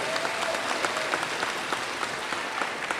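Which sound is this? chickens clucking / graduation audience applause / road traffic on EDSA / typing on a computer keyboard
graduation audience applause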